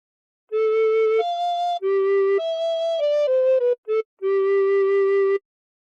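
A recorder plays a phrase of God Defend New Zealand alone, a clean sequence of about ten sustained notes, some held long and a few short, stepping between low and middle pitches with brief breaths between.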